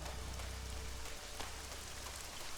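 Rain falls in ELEX as a steady, faint hiss of drops on surfaces that continues evenly throughout with no voices over it.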